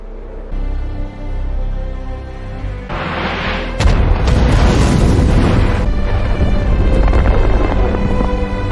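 A deep rumbling boom from an explosion in a James Bond film swells into a loud, sustained blast with crackling debris, layered over a droning orchestral score.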